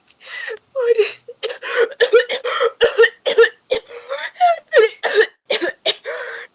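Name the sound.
voice imitating hacking and coughing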